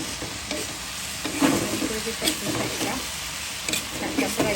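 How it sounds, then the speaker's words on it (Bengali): Blanched spinach frying and being stirred in a pan, a steady close sizzle broken by scraping stirs of the spatula at irregular intervals. "শাকটা ফ্রাই করতেছি। পালং শাক"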